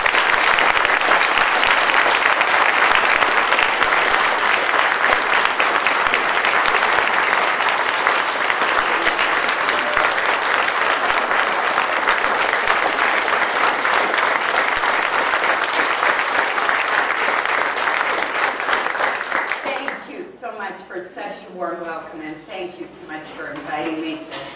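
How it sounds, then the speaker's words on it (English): Sustained audience applause following a senator's distinguished lecture at a university, loud and dense for about twenty seconds before fading as a voice begins speaking. "Let us all give Senator Collins another round of applause."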